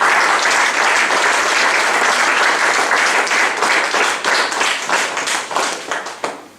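Church congregation applauding during a French-language sermon, a steady dense wash of clapping that stays loud throughout and thins into more separate claps near the end.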